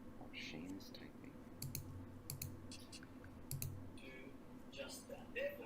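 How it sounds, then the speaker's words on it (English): Typing on a computer keyboard in a room, with faint bursts of rapid key clicks that come and go under quiet background noise. "and then Shane is typing"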